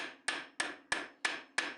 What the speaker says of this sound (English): I'm just going to straighten things out on the post vise.